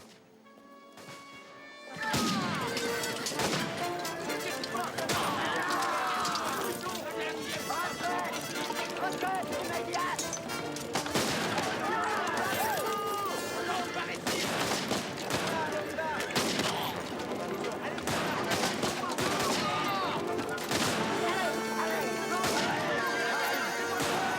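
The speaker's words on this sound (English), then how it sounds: "That was gunfire, a long way off." Bursts of Baker rifle gunfire crackle continuously, muffled and distant, under a busy mix of other noise with no talking.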